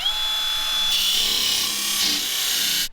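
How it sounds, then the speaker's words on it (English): A belt grinder grinds down a truck hood part with a loud, steady, close abrasive rasp for about three seconds, then cuts off abruptly. "So I'm gonna belt grind a little out of this."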